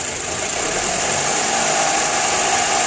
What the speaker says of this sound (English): Ben, give it a little gas and hold it.